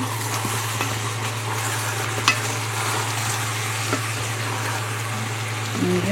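A beef and vegetable stew with leek and onion stirred in a pot, soft scraping and bubbling over a constant low electrical hum, with a couple of light knocks, fairly quiet and steady.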